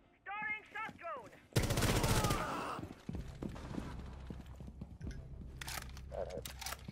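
Shotgun blasts in Rainbow Six Siege, a loud burst of heavy gunfire that erupts sharply and rings out, followed by scattered thuds and clatter, with a brief voice-like sound just before.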